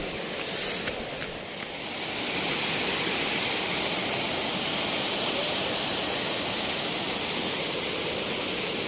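A constant roaring rush of falling water, broad and steady like a nearby waterfall, swelling slightly early on and then holding level; Gupteshwar Mahadev waterfall, Pavagadh.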